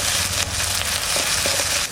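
Onion, ginger and garlic fry with whole garam masala and bay leaves in hot oil, giving a steady, close sizzle with a few faint clinks.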